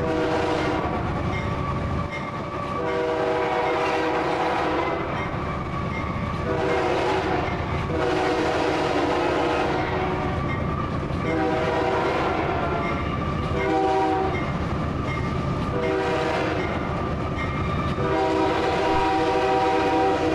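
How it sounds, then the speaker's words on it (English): A freight train's horn blows repeatedly for closely spaced town crossings, heard from the cab over the steady roar of the locomotive and rumbling wagons, with long blasts rising and falling throughout. "It seems like we're blowing the whistle through the entire town"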